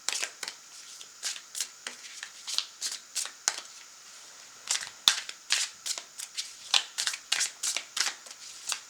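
Tarot cards being shuffled, a quick run of crisp riffling bursts in steady rhythm, close and moderately loud, with a few sharp snaps; no talking.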